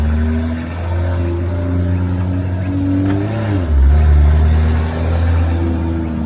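A BMW M car revs hard at a car meet, its engine note climbing and dropping in loud, close rumbling pulls with a deep bass growl, alone without talk.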